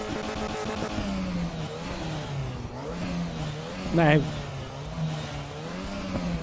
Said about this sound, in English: that's not a bad mini engine sound.